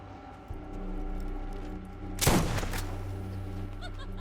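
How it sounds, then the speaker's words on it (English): One loud shotgun blast rings out in Borderlands on a zombie-filled island, a sharp burst rising above a steady hum of game music and then fading quickly. "Oh, this shotgun is gonna come in so handy in this DLC."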